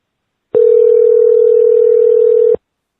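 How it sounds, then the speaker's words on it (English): A voicemail system plays its record tone over a phone line, a single steady loud beep lasting about two seconds after a short silence, alone with no talking. "Record your message at the tone."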